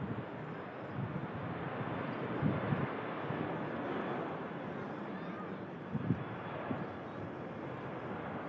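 A Jet2 airliner taking off down the runway makes a steady, broad engine roar heard from a distance, constant and wind-buffeted throughout, with a couple of faint low thumps mixed in.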